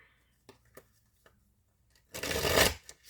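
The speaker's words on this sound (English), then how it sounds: "I am going to shuffle." A deck of Illuminated Tarot cards being shuffled: a few soft taps and card flicks, then one dense riffle burst lasting about half a second, close and clear in a quiet room.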